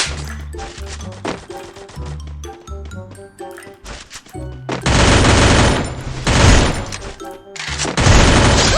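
A P90 submachine gun fires in a shooting video game, first in short clipped bursts and then in long, loud sustained automatic sprays broken by brief gaps.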